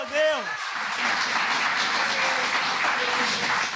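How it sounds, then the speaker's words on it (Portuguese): A church congregation breaks into sustained applause after a short sung or shouted note at the very start, the clapping dense and steady throughout. "Dá uma salva de palmas para o Senhor Jesus."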